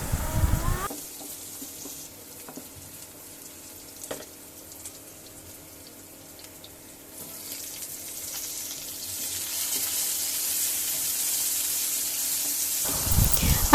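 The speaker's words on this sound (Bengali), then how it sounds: "পেঁয়াজটাকে আমি মোটামুটি একটু ভেজে এখন আমি টমেটো কুচিটা দিয়ে দেব।" Chopped tomato goes into a pan of frying onion for a pangas fish curry, giving a steady close sizzle with a watery hiss that swells louder in the last few seconds, and no talking.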